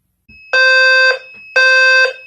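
A loud fire alarm bell, a low-frequency sounder, rings in two long, steady bursts separated by a short pause, harsh and piercing with no voices.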